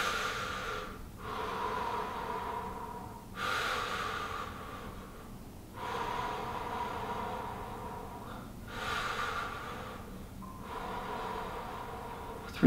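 Slow, deep breathing during a fascia stretching exercise, with about five long audible inhale and exhale cycles through the nose, close and steady, with no talking.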